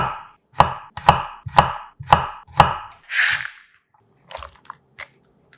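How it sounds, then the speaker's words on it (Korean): Whole garlic cloves roughly sliced with a knife on a board, five crisp, evenly spaced chops close up, followed by a scrape and a few quiet handling knocks. "통마늘 6개는 듬성듬성 썰어 담고"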